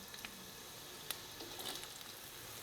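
Bitter gourd (karela) pieces deep frying in hot oil over a medium flame: a steady, soft broadband sizzle with scattered crackles and pops, one sharper pop partway through, and no talking.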